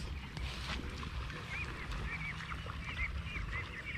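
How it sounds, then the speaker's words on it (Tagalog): Ducks swimming in a flooded rice field quack in short nasal calls, several scattered over a few seconds, fairly faint against a low rumble of outdoor background noise. "Malangoy na yung mga pato natin guys."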